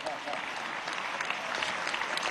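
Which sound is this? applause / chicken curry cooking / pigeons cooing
applause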